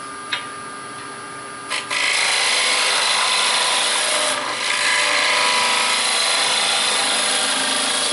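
A bowl gouge with a 40/40 grind cuts into a spinning wood bowl on a lathe, starting with a couple of knocks before settling into a loud, continuous hissing shear of wood peeling close by, steady for several seconds.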